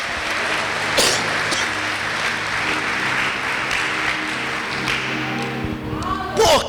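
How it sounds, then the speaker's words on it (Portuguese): A church congregation applauds during a worship program, producing steady, dense clapping that runs throughout with a couple of sharper thumps standing out. "Você pode aplaudir a esse Deus?"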